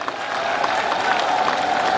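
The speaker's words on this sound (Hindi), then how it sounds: "मैं सब लोगों से कहूंगा जोरदार ताली बजाकर आप" A crowd at a memorial ash-immersion ceremony in Ajmer claps loudly and steadily in welcome, a dense, continuous patter of many hands with faint voices mixed in.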